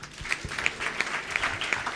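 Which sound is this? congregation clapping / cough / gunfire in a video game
congregation clapping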